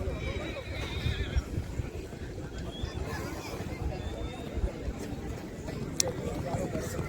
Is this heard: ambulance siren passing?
no